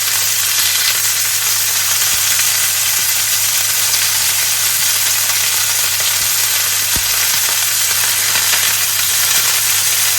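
Pork tenderloin fillet browning in a pan, a loud, even, continuous sizzle that holds steady from start to finish with a faint tap partway through and no talking.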